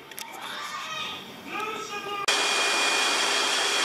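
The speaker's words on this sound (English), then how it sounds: "I got the dryer on" Children chatter briefly, then a pet hair dryer for drying dogs switches on abruptly and blows with a loud, steady whoosh that continues to the end.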